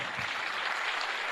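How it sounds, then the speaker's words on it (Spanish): Congregation applause during a church sermon: a full, even wash of many hands clapping at moderate volume, sustained without breaks through a brief moment. "Dele un aplauso a Jesús, por favor."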